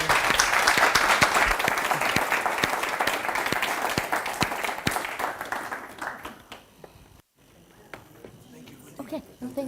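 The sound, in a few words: audience round of applause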